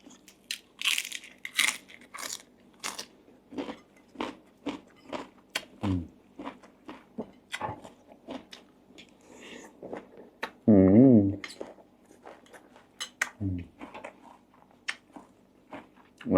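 Crunchy chewing of a spicy Thai yam salad made with chicken feet, close and loud, with repeated crisp bites and crunches in an uneven rhythm and a few brief vocal sounds between them.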